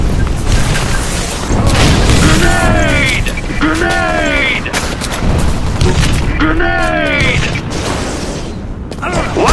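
A grenade blast and heavy combat booms in Enemy Territory Quake Wars, loud and close, with rumbling impacts and mechanical clatter under a shouting voice.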